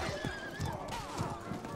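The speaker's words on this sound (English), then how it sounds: "I have to stand here and dodge these horses" Horses neigh and whinny with clip-clopping hooves in a medieval combat game, several loud calls over steady hoofbeats, with a voice speaking over them.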